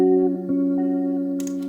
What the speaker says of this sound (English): It's my guitar direct in with some effects.